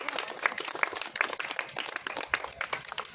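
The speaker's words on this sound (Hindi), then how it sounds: "एक बार ताली बजाइए आप लोग जोर से" Villagers at a rural political gathering clap together in a loose, uneven burst of applause, with scattered sharp claps rising over a murmuring crowd at moderate distance.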